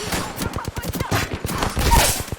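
Rapid bursts of gunfire fill an Apex Legends firefight, a dense stream of sharp cracks repeating in quick succession and staying loud throughout, with players talking over the shooting.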